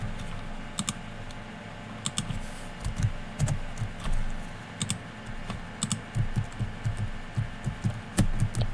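Computer keyboard typed on in irregular bursts of crisp, close key clicks with short pauses while coding a pong game, no voices.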